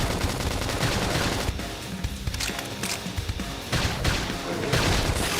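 Dense bursts of rapid gunfire in the video game Xenoblade Chronicles X Definitive Edition crackle continuously with sharp impacts and clattering, loud and chaotic like a frantic battle.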